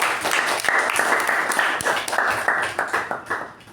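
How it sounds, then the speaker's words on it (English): Meeting audience giving a round of applause, steady close clapping from a modest group that fades slightly toward the end. "let's give me a huge round of applause for reading the minutes"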